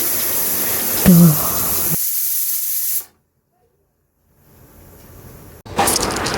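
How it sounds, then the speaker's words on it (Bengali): A kitchen pressure cooker releases steam in a loud, steady broadband hiss for about two seconds. The sound then cuts out to near silence, and a quieter hiss returns before another loud burst at the end. "দেখুন কুকারটা সিটি হচ্ছে।"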